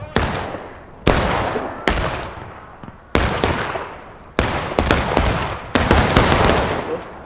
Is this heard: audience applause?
no